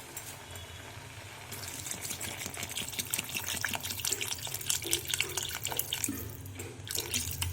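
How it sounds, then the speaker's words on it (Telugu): Water pours into a cholle, potato, meal maker and tomato curry, starting as a soft trickle and swelling into a louder, splashy gurgling stream close by, with faint clinks from the pot. "ఇప్పుడు కొంచెం వాటర్ అయితే వేసుకోండి"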